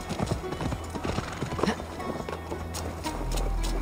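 A horse gallops in the video game Assassin's Creed Valhalla, rapid rhythmic hoofbeats close up, joined by a brief whinny and a player's voice talking over it, ending in a steady rushing wind-like roar.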